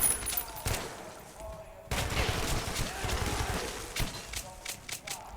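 Gunfire in the video game Metro Last Light, bursts of rapid shots and single cracks in quick succession, loud and close, with someone talking excitedly between and over them.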